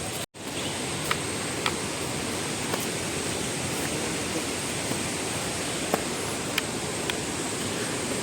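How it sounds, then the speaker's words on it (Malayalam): The Vazhachal waterfall near Athirappilly roars as a dense, unbroken wash of rushing water, steady and full, with a few faint clicks over it. "അപ്പോൾ നമ്മൾ വാഴച്ചാൽ വെള്ളച്ചാട്ടം കാണിച്ചു തരാം"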